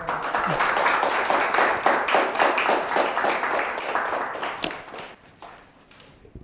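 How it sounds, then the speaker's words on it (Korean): Audience clapping at the end of a university lecture by a former Supreme Court justice, a burst of many hands that thins out and fades to quiet over the last seconds. "박수."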